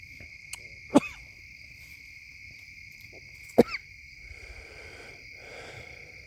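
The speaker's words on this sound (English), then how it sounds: "Now I can cough." Two sharp, short coughs from a bow hunter hidden in a cornfield, a few seconds apart, over a steady background of high-pitched insect chirping.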